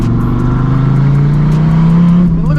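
A fifth-generation Dodge Viper accelerates out of a corner, its loud, steady engine note climbing and holding strong throughout before shifting near the end, heard up close with no talk.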